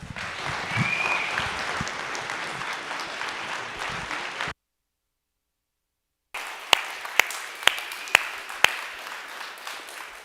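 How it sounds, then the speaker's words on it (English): Audience applause for a guest at a faith-themed talk, dense and steady for several seconds, then a short gap before it resumes with a few sharp isolated claps standing out. "can you guys please give Scott a round of applause?"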